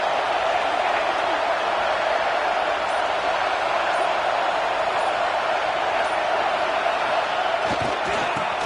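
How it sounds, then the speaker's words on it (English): A fired-up college football stadium crowd early in an NCAA game gives off a loud, steady roar that holds without a break, with a few sharper thumps near the end. "It's early, but this crowd is fired up. Listen to this noise here."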